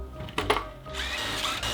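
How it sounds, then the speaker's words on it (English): A power drill bores pocket holes in wood for a simple chair build, a short whirring burst starting after a brief pause and running steadily and fairly close to the end. "I'm gonna drill the pocket holes in these guys."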